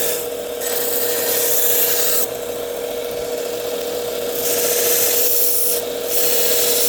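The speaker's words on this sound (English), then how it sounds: "Let's just go ahead and just sharpen the bevel." A pocket knife blade's bevel is sharpened with steady back-and-forth rubbing strokes, a continuous close scraping hiss that pauses briefly a few times, with no voices.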